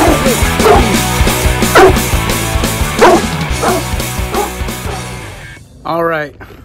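A ten-month-old Rottweiler and Cane Corso cross puppy gives several yipping barks on command over continuous loud background music, ending with a drawn-out whine.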